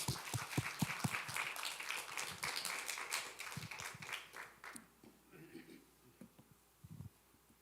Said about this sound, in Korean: 우리 박수로 뜨겁게 환영해 주시기 바랍니다